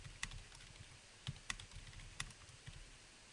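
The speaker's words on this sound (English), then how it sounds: "I can type in a memo here about the transaction." Quiet typing on a computer keyboard while entering a transaction memo: sparse, irregular key clicks close by, a few sharper taps standing out over a faint background hiss.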